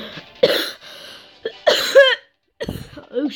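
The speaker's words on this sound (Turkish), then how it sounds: "Öksürüyorum biraz." Several separate coughs and throat-clearing bursts from a person close to the mic, in uneven spurts with short pauses between, no speech alongside.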